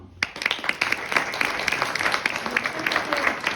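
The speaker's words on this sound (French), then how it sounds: "Donc Elie, qu'on peut applaudir" A conference audience breaks into applause that begins abruptly and continues as dense, steady clapping from a large crowd in a hall, with a voice faintly underneath.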